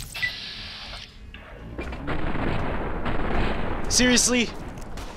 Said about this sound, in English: I see you're shooting me with a pistol